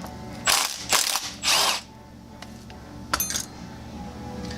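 Ratchet wrench clicking as a bolt comes out of a racing four-speed transmission case, three loud bursts of rapid pawl clicks followed by a fainter metallic clink, close up over a steady shop hum.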